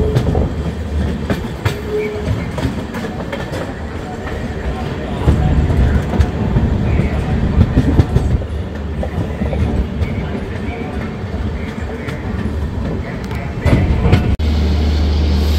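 A Kanchankanya Express passenger train runs on its tracks near Kishanganj, heard from inside the coach as a loud, continuous rumble with rhythmic clickety-clack of wheels over rail joints and rattling of the carriage.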